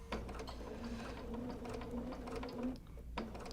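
A sewing machine runs steadily while stitching raw edge applique on friendship quilt pieces, with a continuous mechanical whir and rapid needle clatter, pausing briefly near the end before resuming.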